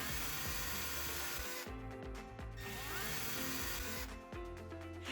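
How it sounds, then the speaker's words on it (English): A power drill with a bit slightly smaller than the mounting screws pre-drills screw holes through a template for a wireless IP camera mount, whining in steady bursts with short pauses between holes, close and loud with no talk. "using a drill bit slightly smaller in diameter of the mounting screws, pre-drill the 3 screw holes on the template marked with the number 1."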